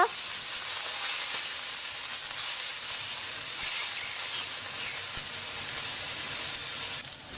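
A pot of rice boiling on the stove gives a steady, even hiss and bubbling that runs continuously at a moderate level, with no voices.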